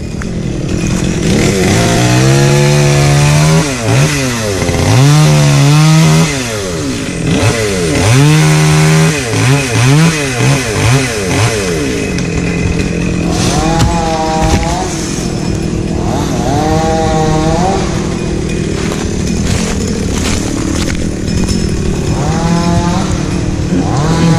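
A loud chainsaw runs close by, its engine rising and falling in repeated revving bursts as it cuts through trees.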